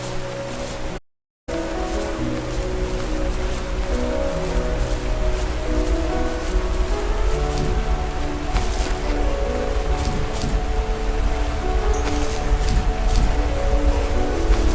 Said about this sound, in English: Now let's go to this waterfall.